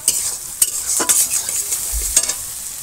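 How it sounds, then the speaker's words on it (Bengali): Onions fry in hot oil in a pan over a wood-fired village kitchen stove, a steady nearby sizzle broken by occasional stirring scrapes. "দেখো পেঁয়াজ ভাজা হবে।"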